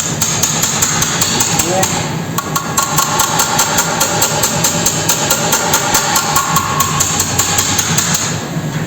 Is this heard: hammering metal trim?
yes